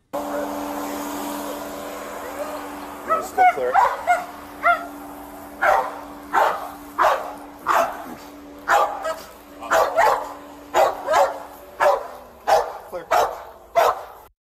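A dog barks repeatedly in a steady series of sharp, loud barks, close by, over a constant low mechanical hum.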